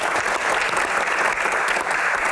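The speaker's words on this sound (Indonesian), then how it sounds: "tepuk tangan dulu biar semangat" Steady, dense applause from an audience at a live Q&A event on Hajj supervision, continuous and fairly loud throughout with no talk over it.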